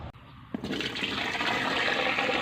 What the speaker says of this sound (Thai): เทน้ำเข้าไปเลยครับ